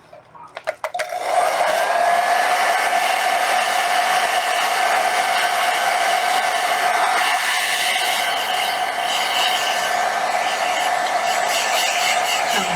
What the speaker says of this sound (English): I will again use my blow dryer so that I will not smudge the colors under.